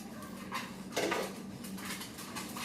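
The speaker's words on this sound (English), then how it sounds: "So I'm gonna mix this all together with a whisk." Wire whisk clinking and scraping through flour, cinnamon and salt in a bowl, a few short irregular strokes close by with one louder burst of metal against the bowl, no talking.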